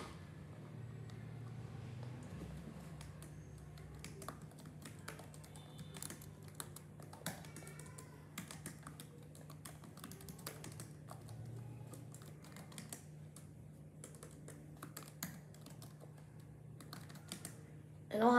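Keys clack steadily on a computer keyboard as someone types out a written piece, the irregular taps close and clear over a constant low hum, with no talking.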